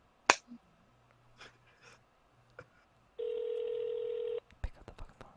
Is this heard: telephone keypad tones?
yes